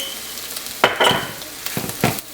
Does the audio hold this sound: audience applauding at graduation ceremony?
no